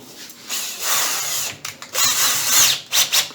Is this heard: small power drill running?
yes